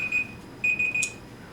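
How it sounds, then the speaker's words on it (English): A timer alarm goes off with two bursts of shrill electronic beeping separated by a short gap, fairly close over a quiet room. "I was a smart guy and I set a timer"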